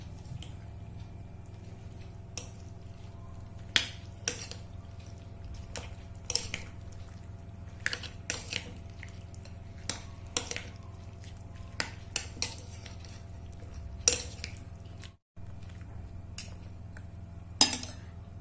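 A spoon stirs a milk dessert flavoured with cardamom in a bowl, producing scattered sharp clinks and taps against the dish over a quiet low hum, with no voices.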